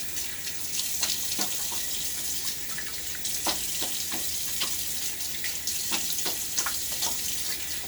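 A running tap rinses during a wet shave, a steady close hiss of flowing water with splashes and scattered drips and clicks throughout.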